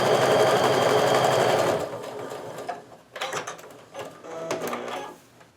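A sewing machine chain-pieces quilt blocks, running in a steady, loud mechanical whir up close, then stopping and restarting in short uneven bursts with clicks and handling noises between stitches.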